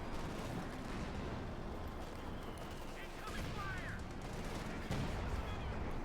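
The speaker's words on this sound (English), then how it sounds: "A lot of shooting around here in the centre." Battle gunfire from the strategy game Company of Heroes 2 crackles in scattered distant bursts and thumps, continuous and moderately loud beneath a calm commentator's voice.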